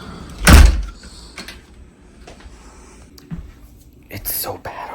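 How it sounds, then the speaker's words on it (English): A door being forced open against blizzard wind, with a loud thump near the start followed by scraping, rattling and knocks, and a short burst of noise near the end. "Can't even get the door open."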